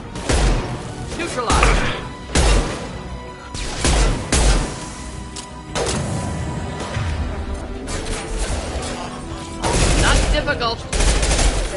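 Rifle fire in the video game Mass Effect 2 Legendary Edition: loud bursts of rapid shots and heavy thuds in several separate volleys, with a character briefly speaking between them.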